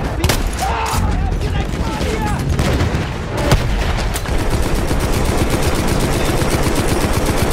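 Rapid bursts of automatic gunfire and heavy booms fill a Battlefield 1 battle, loud and close, with a fast repeating machine-gun rattle through the second half and a voice talking over the shooting.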